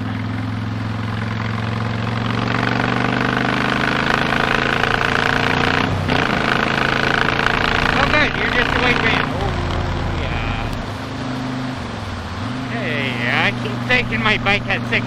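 A Honda VTX 1300 motorcycle engine hums and rumbles steadily while riding on a rural Ontario road, with wind noise, pitch shifts as it changes gears, and someone talking over it.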